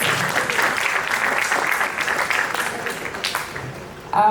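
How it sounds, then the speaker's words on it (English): An audience at a Mercedes-Benz fireside talent event gives a big round of applause for an executive director, dense sustained clapping that runs for several seconds before tapering, with a louder burst at the very end. "Let's give him also a big round of applause"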